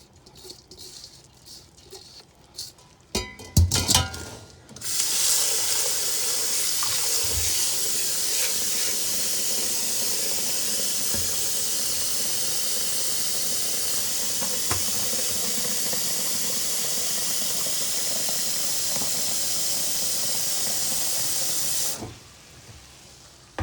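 Zobo drink with pineapple and ginger starts cooking in a pot: after some clattering, a loud, steady hissing rush of boiling and steam runs for almost twenty seconds before cutting off.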